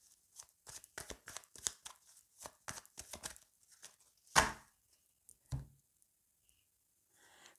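A deck of Météores oracle cards being cut and handled: a run of soft, quick flicks and taps, close by, with one sharper slap and a smaller snap toward the end, and no voices.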